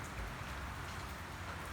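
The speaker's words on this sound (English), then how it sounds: "Definitely quite a rainy day." Steady rain falls through a gray, wet day, a soft continuous hiss of drops with no voices, moderately quiet and even throughout.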